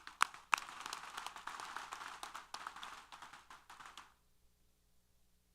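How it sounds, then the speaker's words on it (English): Applause from the crowd at a Texas A&M University-Corpus Christi fall commencement, a dense patter of hand claps for about four seconds that fades out abruptly into near silence. "Let's give them all a round of applause."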